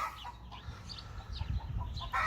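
Hens clucking noisily after one has laid an egg, a flurry of brief, agitated cackles close by with farmyard background noise.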